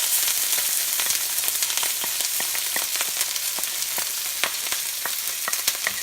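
Crushed ginger, green chilli and large garlic cloves fry in hot oil for chicken masala rice, giving a steady close sizzle with frequent sharp crackles and pops, no talk.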